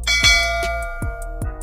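Repeated bright bell dings, a notification-style chime struck about four times in quick succession, each ring clear and resonant with a decaying tail, alone with no talk.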